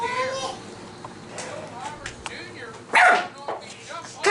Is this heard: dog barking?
yes